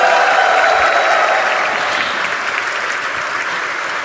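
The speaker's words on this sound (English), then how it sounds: "Can we have a bigger round of applause for him, please?" A large audience claps at a stock exchange listing ceremony for LG Electronics in India, a loud and dense wash of applause that gradually thins and softens over about four seconds.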